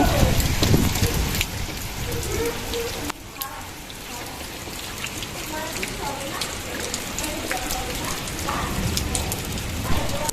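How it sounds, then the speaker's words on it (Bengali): Light rain falls steadily as a dense, broadband patter on outdoor surfaces, continuous and fairly loud throughout, with a brief dip partway through. "আজকে কিন্তু আবারও বৃষ্টি হলো খুব বেশি হয়নি তো অল্পই বৃষ্টিটা হয়েছে"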